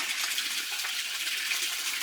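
Water gushes steadily from a tap to fill a bath for young children, a continuous hissing splash heard close up with no talking.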